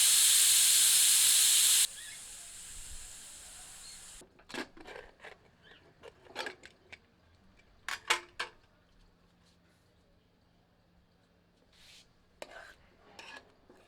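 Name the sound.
pressure cooker releasing steam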